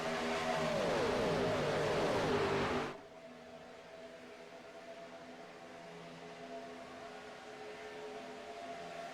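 Race cars lapping Daytona roar loudly and close for about three seconds, then give way abruptly to a quieter, steady engine drone with sustained tones.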